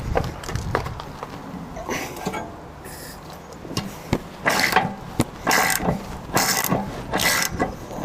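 A ratchet wrench cranks open an RV camper's hot water heater during winterizing, producing close, crisp bursts of rapid clicking separated by short gaps, with faint clanks between strokes.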